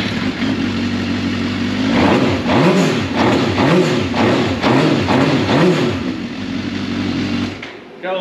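A motorcycle engine, newly fitted with an aftermarket exhaust, revs up loudly in a run of repeated rising-and-falling throttle blips, close by and alone, before settling back to a steady idle.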